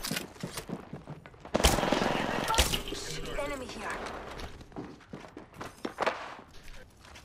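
Video game gunfire from a squad-based shooter with shields, bursts of shots at a distance mixed with footsteps and impacts, while players talk over the action.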